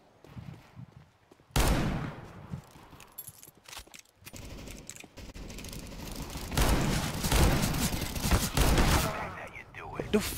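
Rapid gunfire from the video game CS GO, with bursts of shots starting sharply, then loud clattering volleys building through the second half with little letup.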